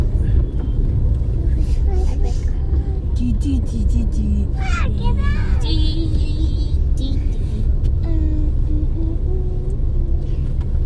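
A car drives along a road with a steady low rumble of engine and tyres throughout, while several people talk over it in the cabin.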